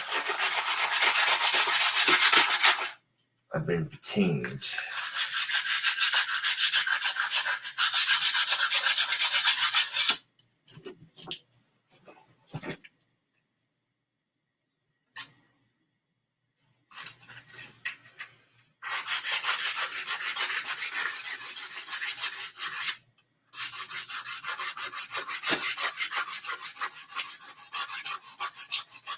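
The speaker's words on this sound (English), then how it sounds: "Very light on that sanding, just to leave most of the bark on them." Light hand sanding of wooden wands, leaving most of the bark on, comes as bursts of steady rasping strokes broken by pauses and a few soft knocks, close and fairly loud.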